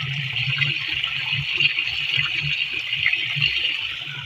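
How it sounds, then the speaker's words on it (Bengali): Water gushes from a deep tube well pump beside a paddy field in an open rural setting, making a steady, close rushing and splashing sound with a low churning underneath. "এই যে জল বার হয়ে গেল"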